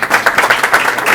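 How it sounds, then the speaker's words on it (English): Brief bursts of clapping from a small group at a city council meeting in Brawley, close and fairly loud, uneven and scattered rather than a full ovation. "Let's give him a big round of applause."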